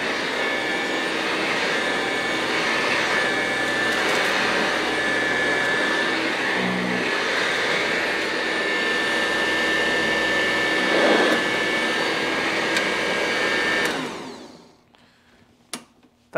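A Eureka 1447 upright vacuum cleaner runs with a steady, loud motor whine and airflow roar for about fourteen seconds, then powers down and falls quiet.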